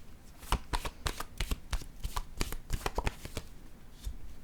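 Tarot cards are handled and laid down on a table, a quick series of crisp slapping and shuffling flicks in an irregular rhythm, close and fairly quiet.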